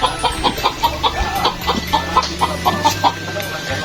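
Repeated short clucks from chickens in a quick, uneven rhythm, fairly close, with a low steady hum running underneath.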